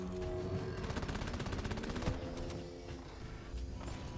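Rapid automatic gunfire from the co-op mining shooter Deep Rock Galactic, a steady rattling burst of closely spaced shots lasting most of the moment, loud and continuous, with game effects underneath and no talking.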